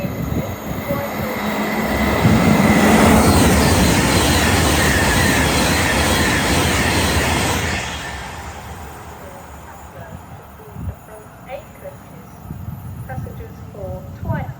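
An Elizabeth line train at Burnham station on the line toward Reading rumbles loudly through the platform for several seconds, then fades, leaving quieter platform ambience with a few distant clunks.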